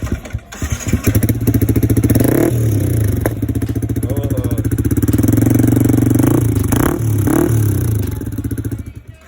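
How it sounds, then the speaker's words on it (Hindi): A Yamaha R15 sport motorcycle with an Akrapovic exhaust and dB killer revs loudly up close, its baffled exhaust rising and falling in pitch several times before the engine cuts off. "अभी डीवी किलर लगा हुआ है बाइक में। चलिए स्टार्ट करिए सर।"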